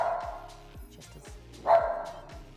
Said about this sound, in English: he's barking at some noise